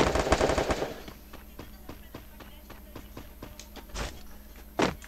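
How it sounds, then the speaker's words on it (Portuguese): Rapid automatic gunfire from a first-person shooter match, a loud burst up front, then a steady run of sharp single shots and bursts with a few louder cracks near the end, alongside faint player voices. "Opa, tem cara atirando."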